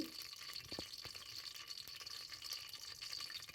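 Green chillies fry in hot oil in a pot over a wood-fired stove, a faint, continuous crackling sizzle with scattered small pops and no voices.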